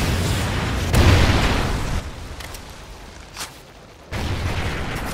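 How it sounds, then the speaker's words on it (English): Trinity rocket strike explosions in the Call of Duty Ghosts video game: loud, broadband blasts around one second in and again near the end, with a rumbling, crackling tail in between and no talk. "Friendly Trinity rocket sound is inbound."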